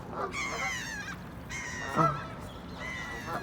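Harsh, nasal honking calls from ducks nearby, three drawn-out squawks in a row over faint background noise.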